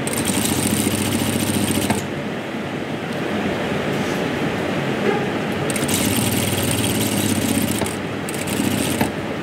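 A sewing machine stitches fabric with a steady, close mechanical whir that runs almost continuously, easing briefly around two seconds and again near the midpoint before resuming.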